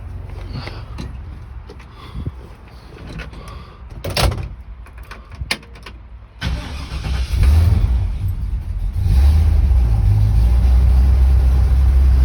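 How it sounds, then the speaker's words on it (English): A 1955 Chevrolet Bel Air street rod's cold engine turns over after some door and handling noises, then settles into a loud, steady low rumble as it idles. "give me just a second and we'll fire it up"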